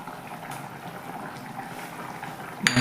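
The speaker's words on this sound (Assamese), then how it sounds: "এতিয়া আমি মাছখিনি দি দিম" Radish and fish curry simmering in a pot as fish pieces go in, a soft, steady bubbling burble throughout, ending in a brief louder splash or clatter.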